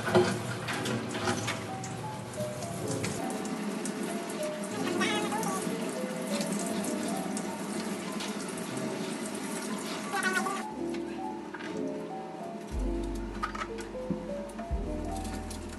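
Water runs from a tap for a Maltese dog's shower during grooming, a steady rushing splash that goes on throughout, shifting in tone as the flow changes, with a few faint background sounds and no clear talk.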